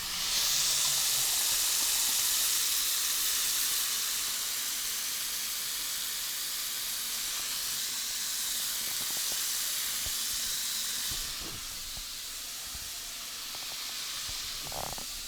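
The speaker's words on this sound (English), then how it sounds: "So we're going to try some sound effects within the sink." Water sloshed and splashed in a bathroom sink as a homemade sound effect, a steady close hiss and gurgle of running, churning water throughout, easing slightly near the end with a few small splashes.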